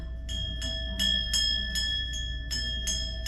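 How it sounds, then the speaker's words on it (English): Repeated bright metallic strikes of a Hindu temple bell, about eight in quick succession, each with a lingering ringing tone over a low background hum. "close your eyes and listen to this bell now"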